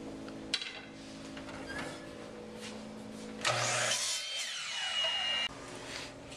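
A power saw crosscuts a wooden board in a workshop: a low running hum, then a loud, harsh cutting burst of about two seconds before the noise drops back.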